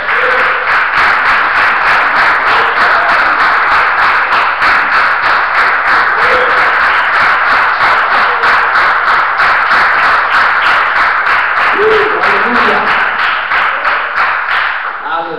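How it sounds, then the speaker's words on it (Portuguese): Church congregation applauding at a Portuguese-language service, steady dense clapping filling the room for the whole stretch, with voices singing or calling out above it. "Se você puder aplaudir o Senhor."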